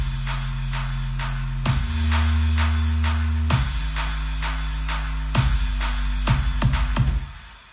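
A steady electronic beat made in FL Studio of thumping kicks and sharp claps, with crashes marking each new bar over a sustained low bass line.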